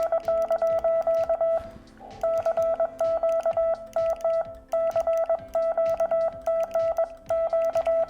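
Morse code CW tones keyed on a Xiegu X6100 HF and 6-meter ham radio: a steady, clear beeping tone in quick dit-dah bursts, broken by short pauses around the second and fifth seconds, loud and close.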